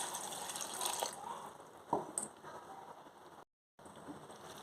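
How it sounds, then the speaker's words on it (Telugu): Flattened rice (poha) being rinsed in water for a snack, with soft sloshing and splashing and a few sharper watery splashes near the middle, faint and close, with no speech. "ఇది 2 టైమ్స్ వాష్ చేసుకొని పక్కన పెట్టుకోవాలి."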